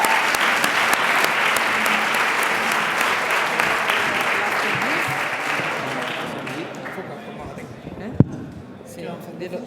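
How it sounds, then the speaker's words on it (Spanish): Audience applause after a talk at a data meetup, a full steady round of clapping with voices underneath that thins out near the end, followed by a sharp knock. "otro aplauso porque ya siempre damos dos"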